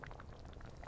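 A pot of thukpa vegetable broth with noodles simmers steadily, giving a soft, continuous bubbling hiss with small pops throughout this short, faint stretch.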